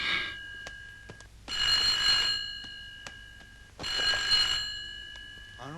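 An old-style telephone bell rings in a North Korean film scene, two long bursts of ringing separated by a quiet gap, fairly close and loud with no talk over it.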